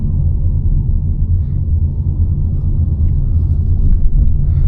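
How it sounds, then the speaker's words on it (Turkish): New Renault 5 driving through city streets over potholes and manhole covers, a steady loud low rumble of road and suspension noise inside the cabin with faint knocks. "Bakın çukurlara giriyoruz. Kapaklara giriyoruz."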